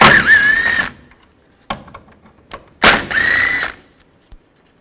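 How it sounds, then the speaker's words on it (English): A power tool with a 10mm socket whirs in two short bursts, loosening the upper radiator bracket bolts on a 2011-15 Kia Sorento, with light clicks and taps between and after. "Take this upper radiator bracket off, use a 10mm socket, take these 2 bolts out."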